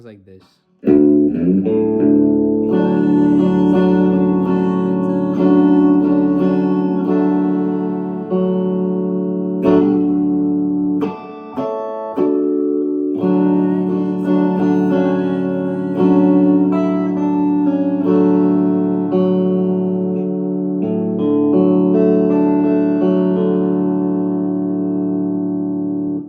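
Guitar plays the verse of a song, sustained chords and arpeggios ringing steadily and close for the whole stretch, with one brief gap near the middle and no talking over it.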